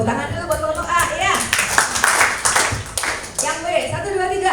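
An audience at a church gathering claps for a group of performers, a bright burst of hand clapping that mixes with voices talking and calling out over it.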